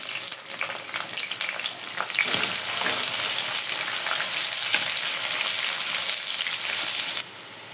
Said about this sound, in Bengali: তেল গরম হয়ে গেছে, কিছু পেঁয়াজ কুচি দিয়ে দিব।